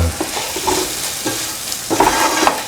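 Instant pickled beans (Lobia Ka Achaar) are stirred in a pan over the flame: a spoon scrapes and clatters in uneven strokes over a soft sizzle, louder near the end, with no voices.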